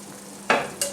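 Salt being stirred into lamb roasting juices, two short scraping bursts of utensil against the pan close by, with a faint background hum between them.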